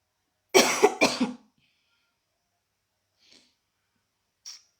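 A person coughs twice in a quick, loud burst close by, then goes quiet apart from two faint short sniffs or breaths later.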